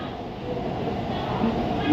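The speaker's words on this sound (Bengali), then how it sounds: "এখনও ট্রেন যাচ্ছে" A metro train runs through the underwater tunnel about thirty feet beneath the Ganges toward Howrah Maidan, heard from inside as a steady, close, broadband rumble that swells slightly toward the end. Faint talk may sit underneath.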